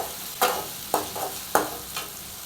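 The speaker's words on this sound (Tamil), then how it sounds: "வெங்காயம் பச்சை மிளகாய் கொஞ்சம் நல்லா வதங்கட்டும்." Onion and green chillies sizzle steadily in a pan, a continuous frying hiss broken by several brisk stirring scrapes at an uneven rhythm, close and moderately loud.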